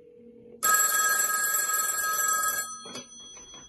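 A Commodore rotary phone rings after a call is routed to it over Bluetooth, a loud sustained metallic bell ring of about two seconds followed by a short second burst.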